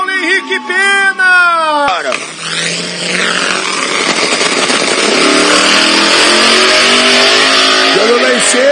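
Drag racing cars launch side by side at an Armageddon event in Goiânia, and loud roaring engines build into a sustained, wide-open scream, with a car passing near and a commentator talking over it.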